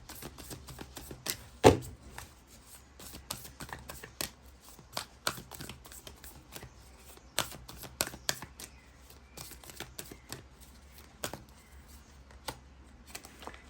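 Tarot cards shuffled continuously by hand in a quiet room, a steady run of soft riffling flicks and light slaps with one sharper knock near the start; no voices.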